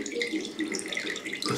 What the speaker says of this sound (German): Immer an der tiefsten Stelle tropft es durch.